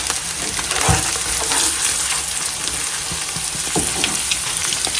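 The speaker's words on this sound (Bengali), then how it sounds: "একদম লাল লাল করে ফ্রাই করছে" Potatoes and carrots fry in a pan, giving a steady close sizzle with faint stirring scrapes and a clack or two from the utensil.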